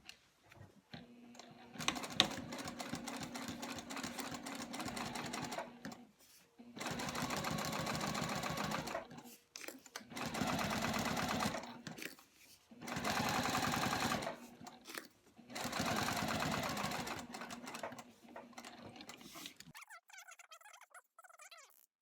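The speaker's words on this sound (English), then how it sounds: "from the front side over on my machine, I'm gonna do a double line of stitching across this entire pocket." Sewing machine running in repeated bursts across a bag's front pocket, stitching a double line at 1/8 and 1/4 inch: five steady whirring runs of a few seconds each, separated by short pauses, close and alone, with faint fabric handling at the end.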